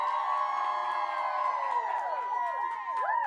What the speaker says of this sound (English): You're going to cheer for who you think won.